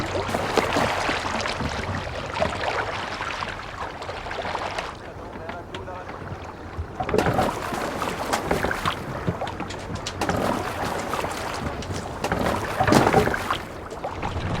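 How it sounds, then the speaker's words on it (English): Rowing a Viking longship in Assassin's Creed Valhalla, oars splashing through water in surging strokes amid wind and ocean wash, with voices talking over it. "Need to row our way out."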